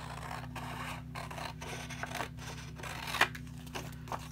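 Close-up scissors cutting paper for a junk journal envelope pocket, a steady run of rhythmic snips and rustles over a constant low hum, with a sharper snip near the end.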